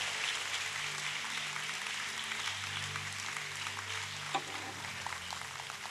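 Church congregation clapping during a Spanish-language sermon, a steady, moderately distant patter of many hands that continues evenly for several seconds over a low hum, with one slightly louder knock near the end.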